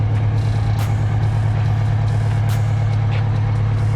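An MCI MC7 coach's Detroit diesel super turbo two-stroke engine, fitted with a custom resonator, idles steadily with a deep, even low drone, close by, with occasional short hissing bursts from the air system filling up.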